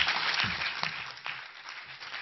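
An audience at a panel on women's economic empowerment applauds steadily with many hands clapping, a fairly soft, even wash of sound lasting the whole moment.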